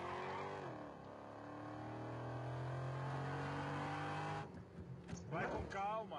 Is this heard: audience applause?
no